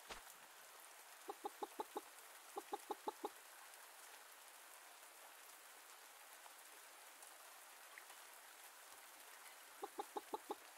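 Chickens cluck in the Pumpkin Days video game, three short bursts of rapid clucks against steady rain, fairly faint and with no talking.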